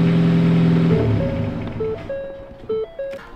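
A Ford Focus ST Mk3 engine hums steadily at idle and then stops, leaving a fading drone with quiet electronic tones and small clicks afterward.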